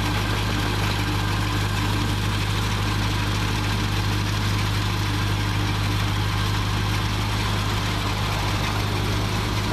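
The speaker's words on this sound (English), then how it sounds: "It's the mower you'll be bidding on. Now he's got it going down the hill." A lawn mower engine runs steadily as the machine travels downhill across a grassy slope, a constant low drone with a strong hum and no talking.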